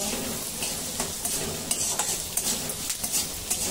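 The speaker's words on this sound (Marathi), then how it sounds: "गॅस चालू करून 5 गॅसवर कांदा हलवून घ्यायचा" Onion sautéing in a pan over the gas flame, a continuous sizzle broken by repeated close scraping and clinking stir strokes that grow more frequent; no one speaks.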